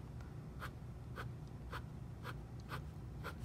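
A fountain pen scratches across paper in quiet, evenly spaced strokes, about two per second, close up with no talking.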